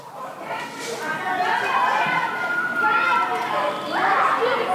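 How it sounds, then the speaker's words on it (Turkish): Children's voices carry from a park behind a house, shouts and chatter blending into a continuous distant hubbub with occasional higher calls rising above it. "Hemen evin arkasındaki parkta çocuklar oynuyorlar."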